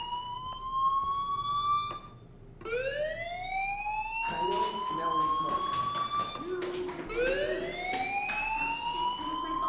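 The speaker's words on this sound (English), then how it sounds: "Hey, do you hear that fire alarm?" A wailing electronic fire alarm in the video game Life Is Strange sounds in repeated rising sweeps, loud and close, layered with game ambience and footsteps.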